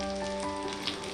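Fish wrapped in a leaf for Meen Pollichathu roasts in a pan, giving a steady, quiet sizzle with a faint hum beneath it and no voices.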